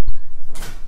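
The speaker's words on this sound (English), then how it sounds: "Stop closing these doors, okay?" A door is pushed shut with a sharp thump at the start, then a soft creak and a muted rush of air and latch noise as it settles, close by and alone.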